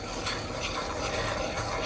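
Oats with a little cinnamon stirred in a hot pan, a steady close scraping and rubbing with a faint sizzle underneath, continuous and even throughout.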